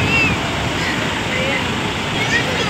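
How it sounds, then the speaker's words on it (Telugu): Large ocean waves at RK Beach, Visakhapatnam, wash in a continuous broad roar of surf with wind buffeting the microphone, while a person talks over it. "పెద్ద పెద్ద అలలు."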